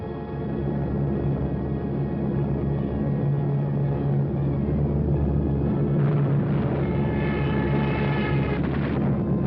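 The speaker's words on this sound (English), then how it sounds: "So the Germans brought up their bombers." German bomber aircraft engines droning in a steady, loud, continuous roar on an old 1943 wartime film soundtrack, with no speech over it.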